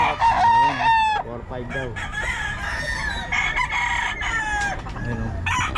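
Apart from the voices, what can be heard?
Golden Boy and Sweater gamefowl roosters crowing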